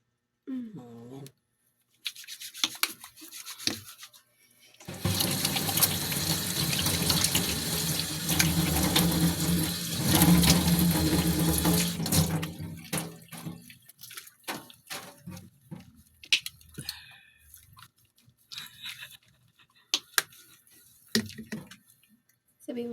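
Tap water runs steadily into a sink during a face wash, a broad continuous rush lasting several seconds before tapering off into scattered splashes and drips, with brief talk around it.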